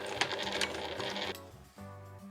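A sewing machine stitches a nylon pochette in a short, fast burst of mechanical whirring that stops about halfway, leaving quieter tonal background sound.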